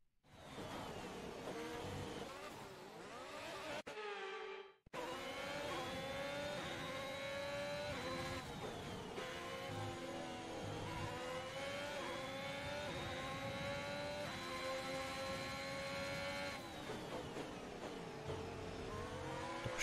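Formula 1 cars race in F1 2021, their high-pitched engines screaming loud and close, revving up and down through gear changes with one brief cut near five seconds, then sustained whining acceleration.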